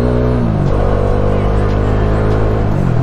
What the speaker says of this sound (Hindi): भाई आवाज सुन रहे हो उसकी, क्या मतलब क्या बैक फायर है भाई इसका